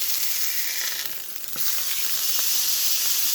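A burger patty frying in a hot pan, a constant bright sizzle that dips briefly and then surges with a sharp crackle as the patty is flipped, continuing loudly afterward.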